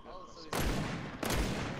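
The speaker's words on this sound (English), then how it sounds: "I just hear the gunshots." Gunfire in Fortnite prop hunt, two loud sharp bursts of shots about three-quarters of a second apart, the first cutting in after a quiet stretch of low background sound.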